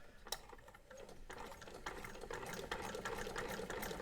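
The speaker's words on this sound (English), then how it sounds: "so this is 3 layers of this canvas, so as if we were sewing a hem" A Singer 128 sewing machine stitches through three layers of canvas, giving a fast, quiet rhythmic ticking and clattering of the mechanism that grows slightly steadier and louder as it runs.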